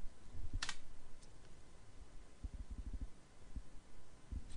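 Keys on a computer keyboard clack as a git reset command is typed, a short close-up run of crisp clicks in irregular bursts with no voices.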